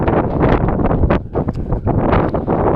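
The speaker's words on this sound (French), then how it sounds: "peut-être que vous avez le vent, donc vous allez entendre peut-être le vent" Strong outdoor wind buffets the microphone in a dense, rumbling roar with surging gusts, loud and continuous with no other clear sounds.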